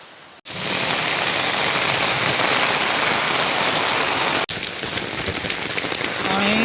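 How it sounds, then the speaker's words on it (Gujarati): Heavy rain pours down steadily as a dense, loud hiss of drops on surfaces, starting abruptly after a brief quiet moment and continuing with a short break near the end. "જોરદાર વરસાદ પડે."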